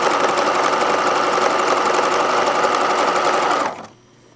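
A sewing machine stitches ruffles onto a knit skirt, running loud and steady for nearly four seconds before stopping abruptly.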